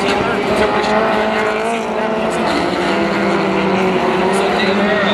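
Rallycross race cars roar past during a Global RallyCross event at SEMA in Las Vegas, their engines sustained and loud with shifting pitch, while commentators talk over the racing.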